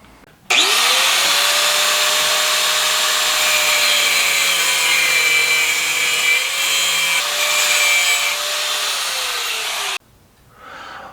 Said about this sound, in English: grind a slot on the top, or I guess on the end of the bolt here